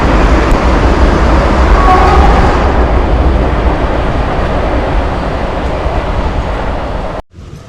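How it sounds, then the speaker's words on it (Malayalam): A train rumbles past close by, a loud, steady broadband roar that fades slightly toward the end before cutting off sharply, with no one talking. "ട്രെയിൻ പോകുന്നുണ്ട്"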